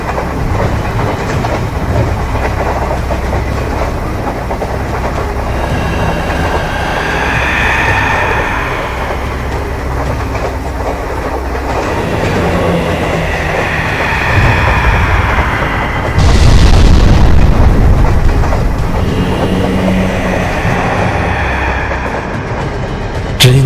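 A train runs along the tracks with a continuous heavy rumble and rhythmic wheel clatter. The sound is loud and sustained, swelling briefly near the end, and no one speaks over it.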